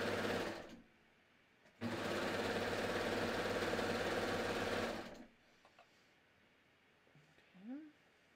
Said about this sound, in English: I'm just sewing up this t-shirt